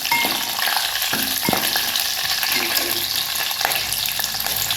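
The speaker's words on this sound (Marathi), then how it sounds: "त्याच्यात मिरची टाकूया चिरलेली." Chopped green chilli hits hot oil with garlic, cumin and curry leaves, producing a loud, dense, close crackling sizzle that holds steady throughout, with a few knocks of a utensil against the pan.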